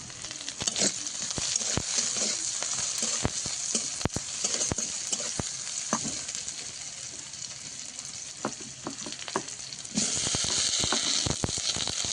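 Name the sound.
onion and green chili frying in oil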